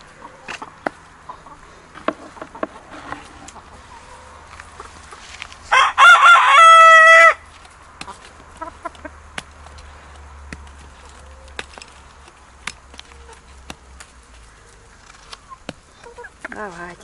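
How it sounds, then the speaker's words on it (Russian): Chickens peck at feed on a farm in Kuban in June, with scattered soft clucks and pecking clicks, while a rooster lets out one loud crow midway through. "Куры такая живность, они все склюют"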